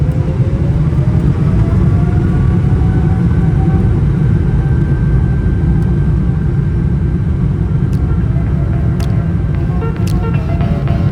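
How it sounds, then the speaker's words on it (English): Jet engines of a Cathay Pacific airliner roar during the climb out of Hong Kong, a loud, steady cabin rumble with a faint rising whine and occasional light rattles. "As the plane was ascending"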